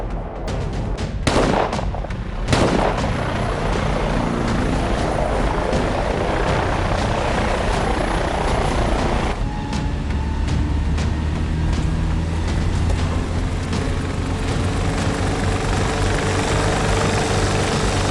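A helicopter flies in an action movie scene, with a loud, continuous rotor and engine roar and several sharp gunshot-like bangs early on.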